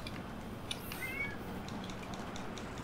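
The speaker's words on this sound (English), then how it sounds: "I hear a cat." A house cat meows briefly and faintly in the background, a short wavering call partly buried under steady room noise.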